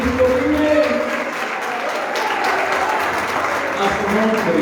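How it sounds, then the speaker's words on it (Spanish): A church congregation claps loudly and continuously for the Lord during a Spanish-language worship service, with a sustained crowd wash that runs under voices and music-like tones. "Más fuerte este aplauso para el Rey."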